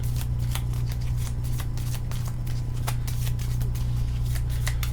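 Cards from a Cthulhu Death May Die board game deck are shuffled close up, a run of quick riffling flicks and snaps over a steady low hum, with no voice.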